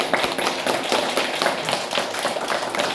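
Third-grade schoolchildren in a classroom competition applauding their teacher, a dense, rapid patter of many hands clapping steadily for a few seconds.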